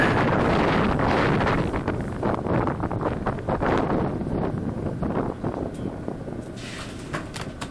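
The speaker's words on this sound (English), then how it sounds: "Seeing as it's rather windy today" Strong wind buffets the microphone continuously, a loud rushing roar with gusty fluctuations throughout.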